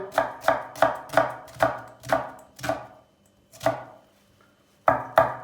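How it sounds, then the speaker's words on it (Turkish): A knife chops onions rapidly on a cutting board in quick, crisp strokes, pausing briefly twice before resuming. "Soğanlarımızı ince doğrayacağız."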